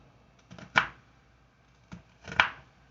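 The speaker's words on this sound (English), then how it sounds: "I'll go ahead on and chop me some down" Onions being chopped for a salad on a cutting board, a few sharp close knife strikes arriving in two small uneven clusters with quiet gaps between.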